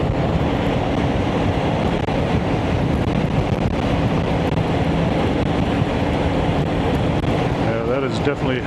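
Strong headwind roars over a motorcycle rider on a windy road near Taos, New Mexico, a loud, continuous broadband buffeting that stays steady and close throughout.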